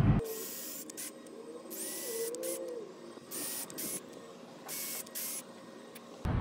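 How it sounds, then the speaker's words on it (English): A drill boring pilot holes while a keyless gate lock is fitted: a whirring motor in several short bursts, near and fairly loud, with pauses between them and no talking. "make your pilot holes"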